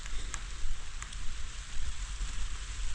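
Steady rain falls at night, pattering on a tin roof beside a mango tree, a continuous broadband hiss with a low rumble and a few brief sharper drops, alone without talk.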